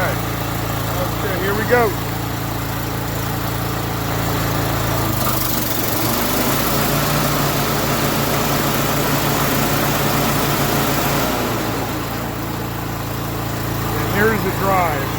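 A Toro Timemaster lawn mower engine runs steadily on a test run, a loud even buzzing drone that shifts slightly in pitch partway through, with a brief spoken remark near the start.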